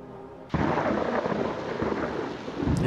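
A sudden loud thunder crack from a lightning strike in the horror game Lost in Vivo gives way to a sustained rumbling roar with rain-like hiss, near and heavy throughout.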